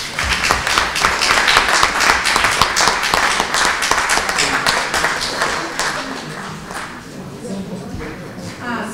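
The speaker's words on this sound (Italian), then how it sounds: "Un applauso." Applause from an audience gathered at a memorial event at Monte Marcone, Atessa, honouring the 1943 Gustav Line battle near Ortona; dense, steady clapping that fades slightly toward the end.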